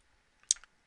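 Computer mouse clicks while drawing lines in a CAD program, a single sharp close click followed by a softer second one in a quiet room.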